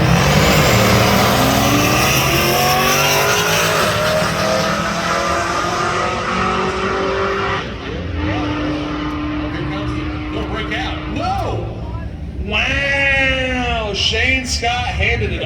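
A Pontiac G8 and a 1994 Chevrolet S10 launch side by side on a drag strip, engines roaring loud and sustained before fading as they pull away, with an announcer talking over the noise throughout.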